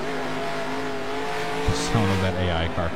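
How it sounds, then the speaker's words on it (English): A computer-controlled race car wrecks hard in a racing video game, a steady engine drone broken by sharp tire squeal and a couple of impact bursts near the end, with speech faintly present. "sound of that AI car crashing."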